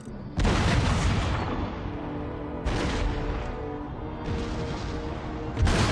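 Heavy cannon blasts in Empire: Total War boom one after another, each a loud deep burst with a rumbling tail, with no talking.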